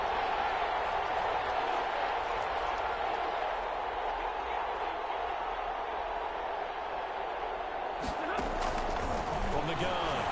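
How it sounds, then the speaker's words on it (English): A football stadium crowd in Madden 21 roars steadily ahead of a big third down, a broad distant wash of cheering heard under a commentator's voice. "The crowd getting into it as we come up on a big 3rd down."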